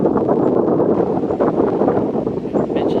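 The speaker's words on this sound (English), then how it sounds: "Ooh, windy up here" Wind blows hard across the microphone atop an observation tower at Myakka River State Park, producing a loud, steady, low rumbling buffet with gusty swells and no talk.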